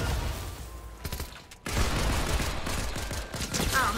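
Rapid bursts of gunfire from Fortnite gameplay crackle in quick succession, loud and sustained after a brief lull midway, with dense repeated shots filling most of the stretch.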